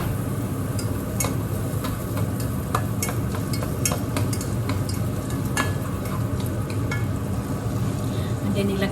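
Rice frying in butter with onion added, a continuous close sizzle scattered with quick scrapes and clicks of the stirring utensil against the pan, no speech.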